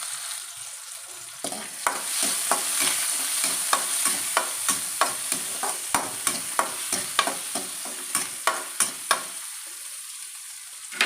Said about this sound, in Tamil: இப்போ வெங்காயம் சேர்த்துக்கலாம். இது கலர் மாறி வர்ற வரைக்கும் நல்லா வதக்கலாம்.